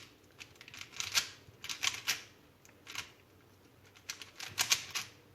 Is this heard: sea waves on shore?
no